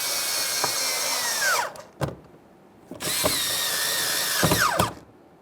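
A power tool snugs up 7 mm mounting bolts on a 2015-2020 Ford F-150 rear door handle. Two loud close whirring bursts, each winding down, are separated by short clicks and a pause.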